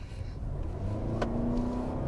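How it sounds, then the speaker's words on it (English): A Toyota Venza hybrid accelerates hard in sport mode during a handling test with stability and traction control off, its engine a steady, rising mid-pitched drone with tire and road noise heard from inside the cabin. "time for a handling test in this Toyota Venza hybrid"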